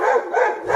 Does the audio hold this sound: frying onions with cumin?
no